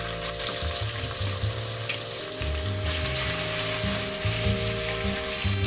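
Chicken pieces for a semi-dry pepper chicken sizzle in a hot pan. A steady, close frying hiss runs throughout with a faint humming tone underneath.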